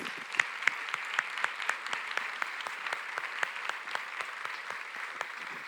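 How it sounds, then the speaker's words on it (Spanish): A church congregation clapping together, a dense steady patter of many hands at a brisk even rhythm with some sharper individual claps standing out, sustained throughout with no voices over it. "Dele ese aplauso al Señor."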